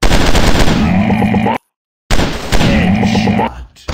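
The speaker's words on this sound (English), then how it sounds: "I'm shooting these fools up!" Rapid automatic gunfire from weapons in the Commando Run Android shooting game, loud and dense, in two sustained bursts split by a short silence.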